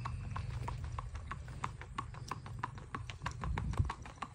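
Ten-year-old Missouri Fox Trotter gelding, 15 hands, ridden at a gait: quiet, steady hoofbeats in a brisk, regular rhythm at a moderate distance, with low background rumble.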